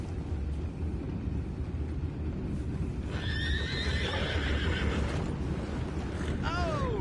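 Horses in the Red Dead Redemption 2 video game whinny twice over a steady rumbling bed of ambient noise, the second neigh near the end falling in pitch, with faint hoof clatter in the mix.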